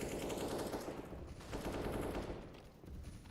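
Rapid automatic rifle spray in Counter-Strike: Global Offensive during a competitive match, loud and dense bursts running nearly the whole time with a brief dip near the end.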